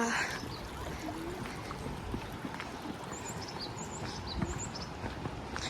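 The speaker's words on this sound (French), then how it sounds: "J'adore le petit ruisseau." Small stream trickling through the Ourika valley in Morocco, a steady broadband wash of flowing water heard close and continuous, with faint birdsong above it and no voices.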